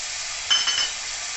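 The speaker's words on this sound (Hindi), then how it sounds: "अब इसमें ये मटर डाल दूंगी मैं, और मटर के साथ हम ये टमाटर भी डाल देंगे।" Peas and tomatoes dropped into sizzling green garlic and fenugreek, a steady hiss of frying with a brief burst of louder crackle as they go in, plus a faint high electronic beep.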